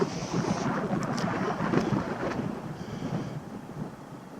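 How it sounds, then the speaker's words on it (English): Strong gusting wind buffets the microphone outdoors, a steady, close, low roar that swells and eases over several seconds, with no voices. "High winds,"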